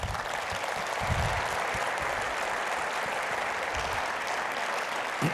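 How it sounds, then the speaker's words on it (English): Loud, sustained applause from a conference audience at the 2019 AAPM&R presidential address, honoring the Academy staff, with dense clapping running steadily for several seconds. "Let's give the Academy staff a round of applause"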